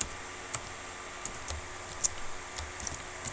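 Keys clack in quick, irregular taps as Python code is typed on a computer keyboard, close and fairly quiet, with short pauses between clusters of keystrokes and no talk.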